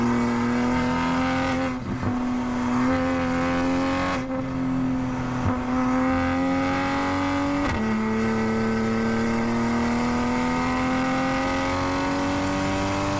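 A Toyota Supra laps the race track at Ridge Motorsports Park, its engine droning steadily near and loud with long sustained pulls, brief dips at each gear change or lift, and no one speaking.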